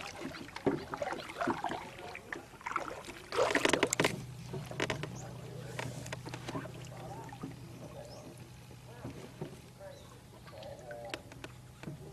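A boat rowed through floodwater in a flooded Thai neighbourhood: irregular oar splashes and water sloshing near and far, with faint background sounds and occasional knocks around the hull.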